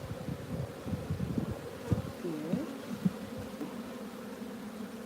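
A dense, steady hum of honey bees swarming around a hive frame, with low droning close to the ear and a brief spoken word cutting in.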